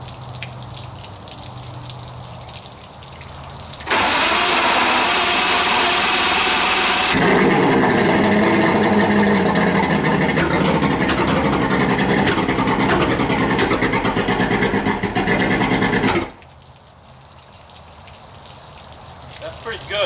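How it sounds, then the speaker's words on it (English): Johnson/Evinrude outboard motor cranked from cold, catching and running loudly with a steady, buzzy engine drone for about twelve seconds before cutting off, with faint background noise before and after. "I'm going to prime the bulb and give it a crank, see if we get any improvement."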